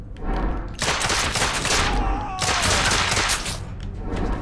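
Rapid gunfire bursts from the third-person shooter game The Order: 1886, loud and dense across the clip with brief gaps, over a constant background of game sound.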